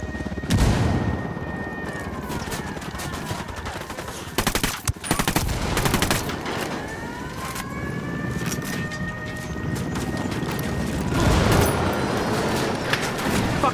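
A frag grenade blast and rapid gunfire in the video game Ghost Recon Wildlands, with loud sustained bursts of automatic fire, sharp single shots and a heavy boom, continuous and dense throughout the battle.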